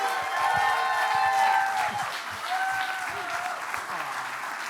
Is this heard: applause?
yes